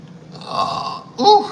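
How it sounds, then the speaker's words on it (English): A loud, close burp from a man that drags on for about a second, followed by a short voiced grunt. "Oh, burping."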